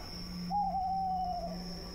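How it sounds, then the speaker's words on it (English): A single long, steady owl hoot in a horror video game, clearly audible over a quiet ambient background hum with a faint high tone. "I don't mean the owl."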